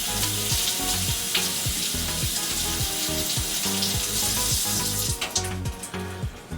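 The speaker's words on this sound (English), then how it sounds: "So we're going to rinse these off" Poblano chilies rinsed under a running kitchen tap: steady, loud gushing water with a hissing spray and rhythmic low thumps as the peppers are turned in the stream, close and continuous.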